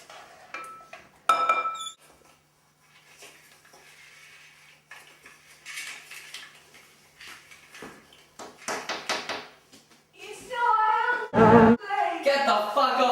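Utensil stirring food in a pot, scattered clinks and scrapes of metal on cookware in short bursts with quiet gaps, and people talking in between.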